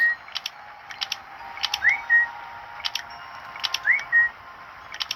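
Short rising whistles recur a few times among clicky, typewriter-like mechanical ticks, with electronic, game-like clarity and no talk.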